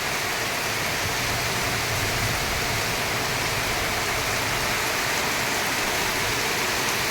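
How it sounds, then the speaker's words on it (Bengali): Steady rain pours all around during a Boishakh-season storm, heard from inside a room during a power cut: a dense, even, continuous hiss with no breaks, fairly loud and close. "বৃষ্টি চারিদিকে বৃষ্টি"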